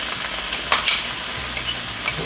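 Vegan barbecue sauce being stirred into vegan pulled pork in a hot pan, a soft continuous sizzle with a few sharp spoon taps and scrapes, close with no voices.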